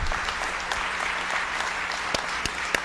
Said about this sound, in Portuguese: pedindo uma salva de palmas